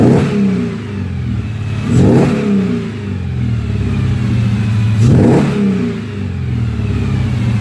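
Mercedes W123 fitted with a swapped M113 5.5-litre AMG V8 and Borla exhaust, revving up twice in sharp throttle blips over a steady rumbling idle, loud and close with no talk.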